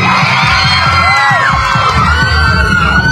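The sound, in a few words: crowd cheering and shouting at a fan event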